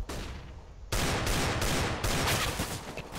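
Gunfire in a Counter-Strike esports match: rapid bursts of shots in quick succession at moderate loudness, no talk over them.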